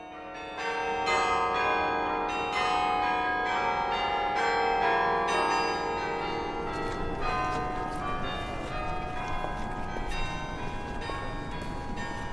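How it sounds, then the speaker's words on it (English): Carillon bells in an 85-foot campus bell tower ring out in a steady, overlapping peal, many struck tones sounding loud and sustained throughout with a lingering resonant wash, no talking. "the iconic 85-foot-tall Carillon Bell Tower"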